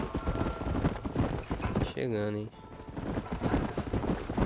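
Horses' hooves clip-clop at a steady walking rhythm in the Red Dead Redemption video game, heard under near-continuous talk, with a brief musical swell in the middle.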